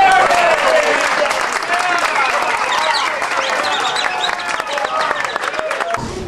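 Loud audience applause at the Magic Castle fills the whole stretch, a dense steady clatter of clapping with a voice speaking over it, ending abruptly.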